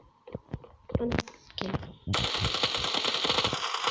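Rapid automatic gunfire from a gun in the mobile shooter Standoff 2, a dense continuous burst in the second half after a few scattered sharp shots and clicks.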